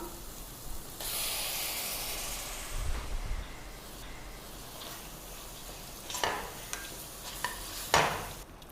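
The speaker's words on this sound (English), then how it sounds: "Now it's time to add the hero of the dish, our mutton keema." Minced mutton keema tipped into a thick simmering gravy and stirred, giving a steady soft sizzle and hiss with scraping stirs and a few sharper clanks of the spoon against the pan toward the end, with no talk.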